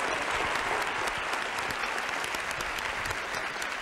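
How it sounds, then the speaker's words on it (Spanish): Steady, dense clapping from a large TV studio audience, loud and continuous throughout without pause. "Llévate este aplauso."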